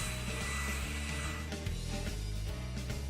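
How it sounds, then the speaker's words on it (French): A hair dryer blows steadily on white glue brushed over a cardboard house, a continuous close whir with a low motor hum, running without pause for a few seconds. "Sèche la colle à l'aide d'un sèche-cheveux jusqu'à ce qu'un film apparaisse."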